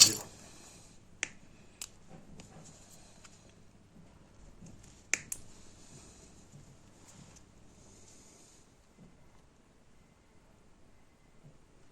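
Heat-shrink tubing being snipped into eight short pieces of about 15 mm, giving a handful of sharp, isolated clicks spaced over several seconds against a quiet, faintly noisy background, with no talking.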